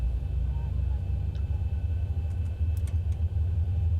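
Boeing 737 jet engines spooling up in the X-Plane 11 flight simulator, a steady low rumble with a droning hum throughout, a few faint clicks above it and no talk over it.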